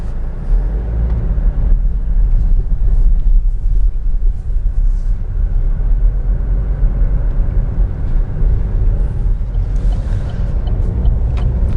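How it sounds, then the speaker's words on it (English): A Vauxhall Astra automatic driving on the road produces a steady, loud, low engine and road rumble heard from inside the car, unbroken throughout. "Now it's time to take the Vauxhall Astra out on the road and see what it's like to drive."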